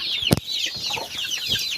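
Chicks on a farm cheep in quick high chirps close by, with a short low thump partway through.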